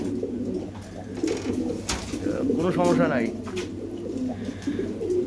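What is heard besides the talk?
pigeons cooing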